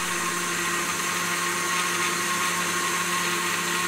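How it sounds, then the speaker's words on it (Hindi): An electric blender whirs loudly and evenly for the whole stretch, blending jamun (java plum) sharbat with black salt, a steady close motor drone with no voices. "इसको हम डालेंगे और इसको हम अच्छे से कर लेंगे ब्लेंड"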